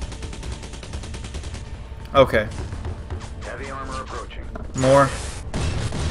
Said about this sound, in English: No idea who's shooting me.